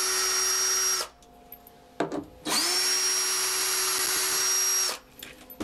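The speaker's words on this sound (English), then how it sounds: "Since this is a router, we primarily screw stuff to the base." A CNC router in a manufacturing workshop spins up to a loud, steady high-pitched whine, winds down, then runs again for a longer stretch. Brief clicks and knocks sit in the gaps between runs.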